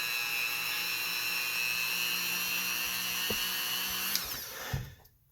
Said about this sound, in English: I just hit them with the Dremel